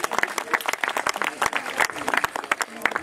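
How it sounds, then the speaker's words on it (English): Audience applause at the 2014 Nepal Day gathering at Farmleigh, Phoenix Park, Dublin: dense, close rapid clapping from a crowd, fairly loud and continuous across the moment. "Please, a round of applause."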